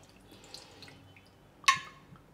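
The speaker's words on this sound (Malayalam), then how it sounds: "കുറച്ചും കൂടി ഒഴിച്ചു കൊടുത്തു." Liquor is poured into a jigger for an Old Fashioned cocktail: one brief close splash with a short ringing trickle, then quiet.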